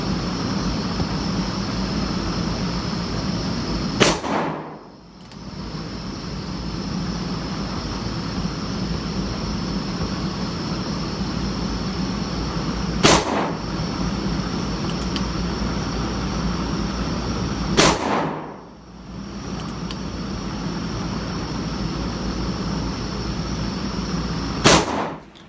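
A .357 Magnum Smith & Wesson 586 revolver fired at a shooting range booms four times, spaced several seconds apart, each loud report cutting through steady background hum from range ventilation.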